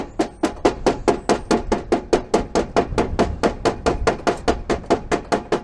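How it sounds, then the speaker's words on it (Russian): A homemade hammer strikes in a fast, steady series of about twenty-five sharp, loud blows, close up and with no talk, during gutter installation work. "Вот такой самопальный молоток,"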